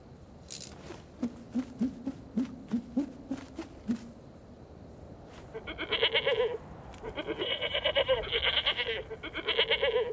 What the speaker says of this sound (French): Les chèvres, c'est par là.